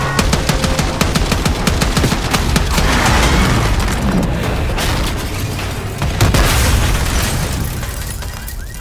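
Gunfire in the Call of Duty: Black Ops 6 campaign: continuous loud, rapid shooting mixed with booming explosions, dense and close throughout with no talking.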